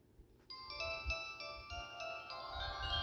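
A Samsung SGH D415 mobile phone playing a melodic polyphonic ringtone, a sequence of clear electronic tones starting abruptly and repeating in a bright pattern, heard close over faint background noise.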